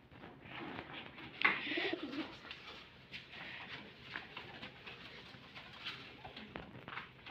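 Pigeons from a Rajshahi loft coo in low, soft bursts near the start, over steady rustling, wing flutters and scattered clicks from the birds moving about, with no one speaking.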